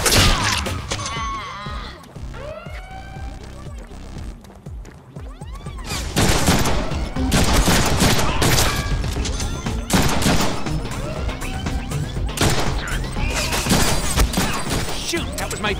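Video game gunfire from Deadpool, rapid bursts of shots and impacts, loud and dense, with someone talking through parts of it.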